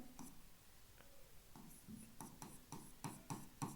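Chalk or marker strokes on a board, a series of short scratchy taps and squeaks growing more frequent toward the end, quiet and close, with no talking.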